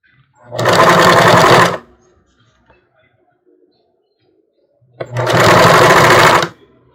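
A sewing machine stitches along the edge of a bra in two loud, close bursts of about a second each, separated by a quiet gap.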